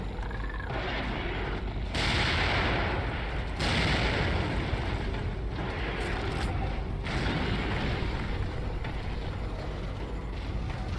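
Grenade explosions in the survival-horror game The Evil Within: heavy, rumbling booms sit over a constant dense roar, with a couple of louder surges, and no talk over them.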